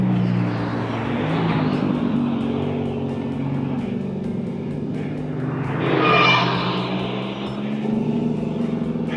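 A fast car climbs the Mont Ventoux road and passes close by, its engine droning steadily before a sharp, loud whoosh as it goes past, then fading as it continues on.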